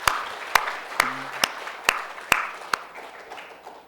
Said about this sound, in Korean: 우리 축하에 박수 한번 합시다